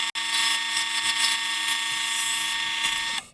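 Wood lathe with a chisel taking a smoothing pass on a spinning workpiece, a steady close whirring scrape with a constant tonal hum, ending abruptly.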